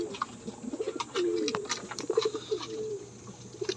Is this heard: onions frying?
no